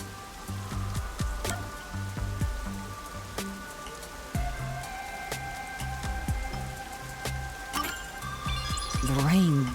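Rain falls steadily in the video game Rain Code, a continuous patter under game music with clinking notes, no talk.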